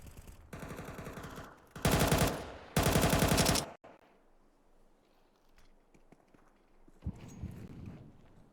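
Automatic rifle fire from a Counter-Strike match rattles out in three loud, rapid bursts early on, followed by quieter scattered in-game shots and movement sounds.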